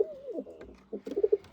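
Pigeons coo close by in a series of low, throaty, warbling calls, the last few coming in quick pulsing bursts.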